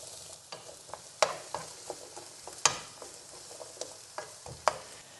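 Chopped vegetables sautéing in hot oil in a pan, a quiet steady sizzle punctuated by regular sharp stirring scrapes and taps from a utensil, close up with no talking.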